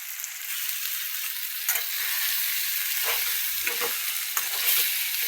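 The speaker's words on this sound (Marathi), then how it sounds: "आपल्याला हे सगळं हलवायचं बघा" Potato and pea curry is stirred through sizzling masala in a pan, with a constant bright hiss and several scraping strokes of the spoon partway through, alone without talk.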